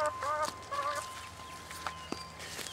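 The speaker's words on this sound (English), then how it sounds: "Here's some more of the chickens." Backyard chickens from a mixed flock of adult and young birds give a few short, nearby clucks and calls over faint background noise.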